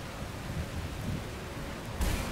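Steady rain and low rolling thunder from a thunderstorm in the video game Skyrim, a continuous wash of noise with a louder rumbling crack near the end.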